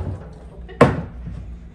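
A fridge door in a rental apartment shuts with a single short, close thud amid faint room noise.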